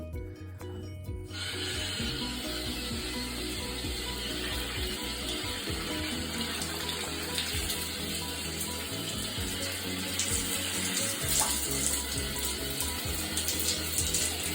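Shower water sprays steadily onto a hard shower wall, a constant hissing rush that stays even throughout after a brief quiet start.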